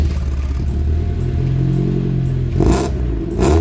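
Lexus IS350 F Sport engine with a new aftermarket exhaust, a loud steady close-up growl that surges into two sharp revs near the end.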